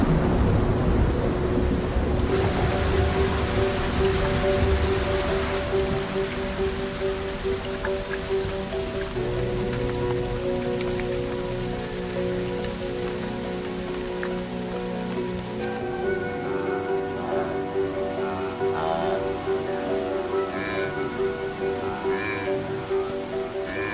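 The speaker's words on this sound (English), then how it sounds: "The rains have finally arrived." Rain arrives on the Liuwa grasslands of Zambia, a steady dense patter of falling drops with rolling thunder underneath, loud and continuous throughout with no voices.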